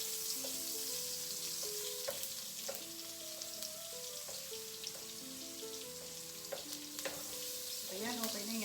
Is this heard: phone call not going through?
no